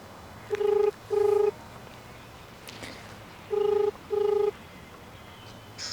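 Four electronic dial tones in two pairs, each a short steady beep, with a pause between the pairs over quiet background hiss.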